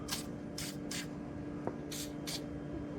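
Rust penetrant sprayed onto a ball joint on a 2009 Nissan Versa, five short hissing aerosol bursts at close range separated by brief pauses, with a faint click between them over a low steady hum.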